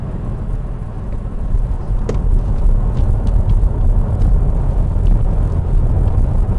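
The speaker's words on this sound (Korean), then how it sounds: "저회전에서 가속 페달을 밟았을 때 회전수 올라갈 때 그때 나는 거는 좀 어쩔 수가 없죠" A Hyundai Avante AD with a 1.6 diesel engine revs while accelerating from low rpm in cold weather, a loud, low, steady drone that swells slightly as it climbs, with no talking.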